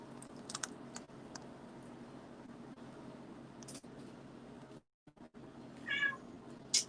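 Pet cat meowing for water in a kitchen during cooking, one short meow near the end over keyboard typing clicks and a low fan hum.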